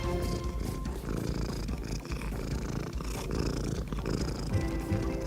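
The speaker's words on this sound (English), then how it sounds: "Extremely loud cat." A cat purrs loudly and steadily up close, a continuous rumbling throb with a regular rhythm and no other sounds.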